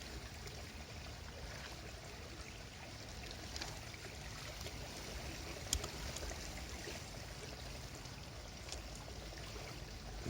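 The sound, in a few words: fast flowing river water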